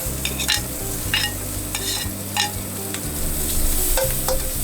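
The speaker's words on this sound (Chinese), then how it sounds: "转中火，倒入牛肉粒翻炒定型。" Diced beef and carrot are stir-fried in a wok for beef fried rice, with a steady sizzle and quick, rhythmic spatula scrapes and clinks, close and fairly loud.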